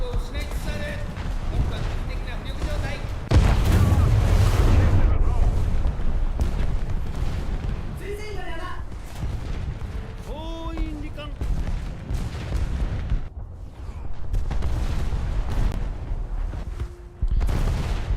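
Naval artillery salvos in a boat combat video game, heavy booming blasts with rumbling tails rising above game noise, while someone talks over much of it.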